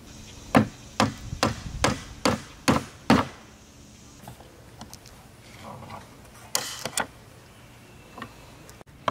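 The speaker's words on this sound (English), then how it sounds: "we nail the side pieces to the base." Six quick, sharp hammer blows drive nails into wood in a steady rhythm, followed by a quieter stretch and a few more scattered knocks.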